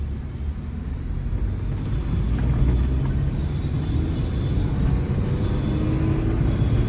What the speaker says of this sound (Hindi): दूसरे गियर में 40 चला रही गाड़ी आप, और इतना ज्यादा एक्सीलेटर किसने बोला देने को?